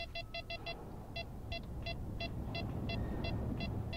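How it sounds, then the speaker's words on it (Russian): In the video game STALKER, an electronic device gives off rapid, regular high-pitched beeps, first in quick bursts and then at a steady pace, over a low ambient rumble. "Что-то пищит, пищит, зараза,"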